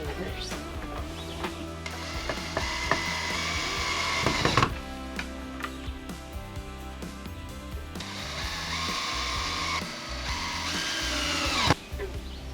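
A power drill runs in reverse in two sustained, close whirring bursts with a pause between them, over low background noise.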